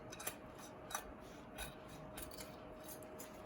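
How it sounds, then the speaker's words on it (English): Scissors snip through fabric up close in a few quiet, separate cuts, with soft rubbing between them in an otherwise quiet room. "Now I'm using scissors."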